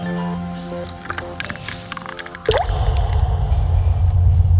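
A shower in a public bath-house bursts on midway, a loud, steady rushing hiss of running water with drips, replacing a quieter, tonal background.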